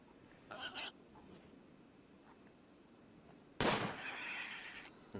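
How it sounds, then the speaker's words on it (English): Gunshots in the RimWorld colony game: a faint crack early on, then after a pause a much louder, sharp report with a crackling tail that lingers for a second or more. "2 very good shots from MJ"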